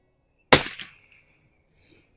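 A single sharp rifle shot cracks out at a shooting range, loud and close, with a brief decaying echo afterward.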